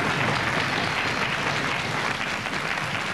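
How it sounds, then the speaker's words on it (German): Studio audience on a German family game show gives the two families a round of applause, a dense, steady roar of clapping that stays loud and unbroken throughout. "Jetzt kriegen beide Familien auch echt nochmal einen Applaus."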